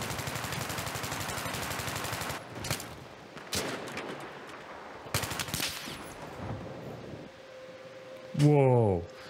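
Video game gunfire played on a GTX 570 graphics card: bursts of rapid automatic shots and scattered single cracks, fairly quiet, ending with a short rising tonal game sound.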